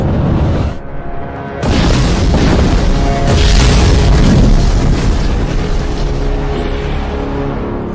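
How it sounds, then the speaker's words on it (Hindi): Loud cannon fire booms close by, then after a brief pause a sustained, heavy roar of explosions rumbles on. "तोपों की मार है"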